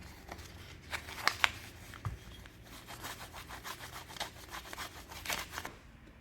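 Sandpaper rubbing the inside of a stainless steel pistol at the final 10,000-grit polishing step, a steady close scratchy back-and-forth rasp with a few sharper scrapes, heard alone.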